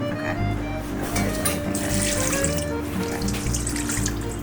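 Water runs steadily from a kitchen tap while croissant dough is being made, a continuous close hiss and splash with no talk.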